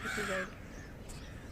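A crow caws loudly at the start, a harsh drawn-out call, then fades into quiet outdoor background while someone speaks briefly.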